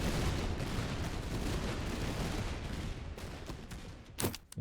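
Artillery fire in the strategy game Master of Command: a dense, loud, continuous rumble of booming shots that thins out near the end into a few sharper cracks.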